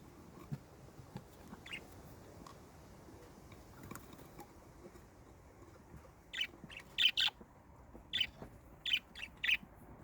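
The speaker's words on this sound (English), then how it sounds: "So these guys are the remaining budgies and cockatiels." Pet budgies and cockatiels on a farm give a few short, bright chirps and squeaky calls, clustered near the end over a faint background hiss with no talking.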